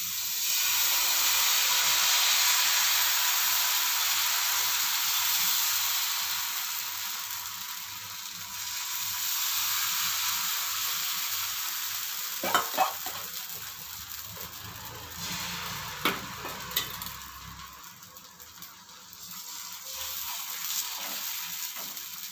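Dosa batter cooks on a hot oiled pan with a soft, steady hiss that swells and fades, broken by a few brief scraping clicks midway.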